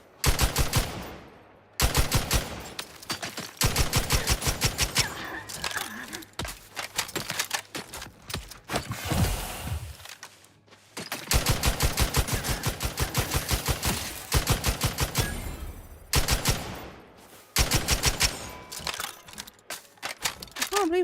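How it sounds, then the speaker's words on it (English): Rapid bursts of automatic gunfire from a sci-fi shooter game, The Outer Worlds 2, rattling in repeated volleys with short pauses between, loud and close throughout the stretch. "I can't see who I'm shooting at all."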